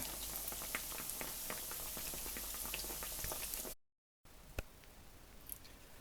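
Dense crackling and popping of potato and liver pies frying in hot oil, steady and close, briefly cut off before resuming with a few sharper pops.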